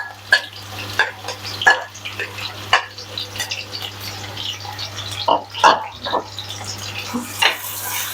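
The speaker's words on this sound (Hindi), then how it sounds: "मैंने प्याज डाल दिया था।" Sliced onions frying in oil in a kadai, with a low steady sizzle broken by irregular clanks and scrapes of a utensil stirring against the metal pan.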